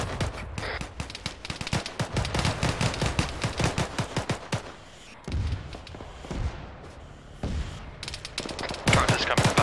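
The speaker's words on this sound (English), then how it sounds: "BMP is targeting us again" Dense bursts of automatic gunfire and cannon fire from a BMP armored vehicle in the military game Arma 3, rapid repeated shots packed through the first half, then scattered heavier blasts and a final loud volley.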